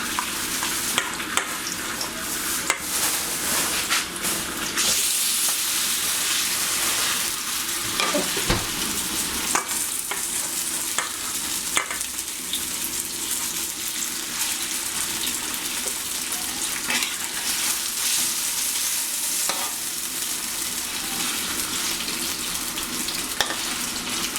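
Pak nam fish frying in vegetable oil at an Isan cooking spot, a loud continuous hiss and crackle of sizzling with scattered pops and occasional stirring clatter, no talk.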